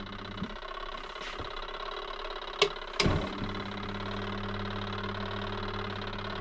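A washing machine runs with a steady low mechanical hum, broken by a couple of sharp clicks partway through; no one speaks.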